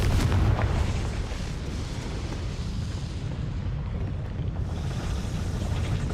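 The Confringo fire spell in Hogwarts Legacy goes off as a deep, rumbling blast that rolls on as a broad roar for several seconds before tailing off and swelling again.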